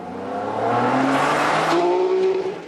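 A race car is driven hard through a left-hand hairpin with traction control off, engine revving and tires squealing as it swings through the bend at close range.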